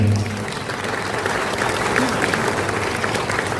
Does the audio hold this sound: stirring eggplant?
no